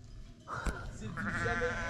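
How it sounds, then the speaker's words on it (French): A flock of sheep bleats on a mountain hiking trail along the GR 10, with several overlapping, fairly close calls that swell after a quiet start and continue to the end over light outdoor wind. "il y a des troupeaux de moutons qui nous a rejoints là"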